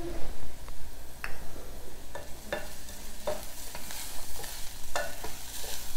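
Onions fry in hot oil as curry leaves go in, a steady close sizzle with a few sharp crackles and spoon clinks against the pan.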